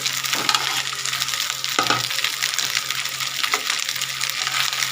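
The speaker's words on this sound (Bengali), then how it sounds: "এইভাবে নেড়ে চেড়ে নেব ভালো করে ভেজে" Food being stirred and fried in a pan for a leftover-rice dish with ginger and garlic: a steady close sizzle with scraping spatula strokes at intervals, no talking.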